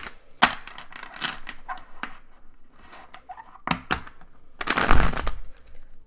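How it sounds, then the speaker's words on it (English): Tarot cards being shuffled by hand in quick bursts of riffling and slapping, close and fairly quiet, with a louder flurry near the end and no talk. "this method of shuffling is faster"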